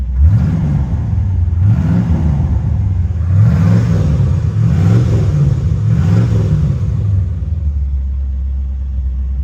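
A 1978 C3 Corvette Pace Car idles and is blipped about five times in a row, each rev rising and falling in a deep low-end rumble before settling back to a steady idle.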